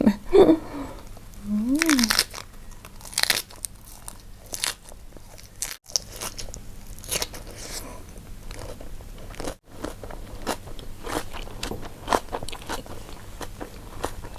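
Loud crunching bites into a large wrap of fresh vegetables and grilled nem nuong pork, with crisp crackles and chewing repeating close up over several seconds, and no talk.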